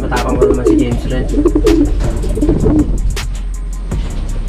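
Racing pigeons coo in a loft, soft low warbling calls repeated several times up close, with sharp clicks and background hum and a faint car passing; a person speaks quietly at points.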